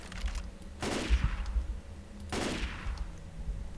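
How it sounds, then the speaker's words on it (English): Gunfire with incendiary bullets in the video game Left 4 Dead, heard as two bursts of rapid shots roughly a second and a half apart, moderately loud with a low rumbling background between them. "I'm shooting a gas can with incendiary bullets and it's not doing anything."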